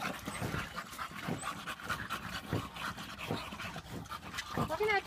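A dog pants in a shallow, partly filled backyard pool, quick rhythmic breaths close by, with splashing water and a person talking softly over it.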